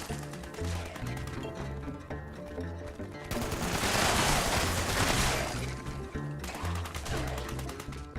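Rapid gunfire in Fallout 76, a loud, dense fusillade of automatic shots that runs nearly continuously, swelling into a heavier burst through the middle before returning to steady rattling fire.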